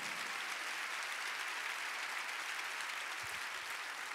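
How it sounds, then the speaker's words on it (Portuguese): A church congregation applauds during a worship service, a steady wash of many hands clapping at moderate distance that fills the whole stretch without pause. "Você pode aplaudir o Senhor,"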